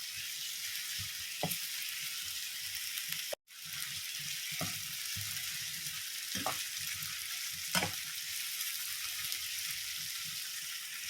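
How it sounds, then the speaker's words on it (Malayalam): Lady's finger (okra) frying in coconut oil for a Kerala-style stir-fry, a constant soft sizzle with a few sharp scraping stirs at intervals and one brief dropout, close by and with no talking. "ഇങ്ങനെ തന്നെ നമ്മളിങ്ങനെ ഇളക്കിയിട്ട് അത് ഫ്രൈ ആക്കുകയാണ് ചെയ്യുന്നത്."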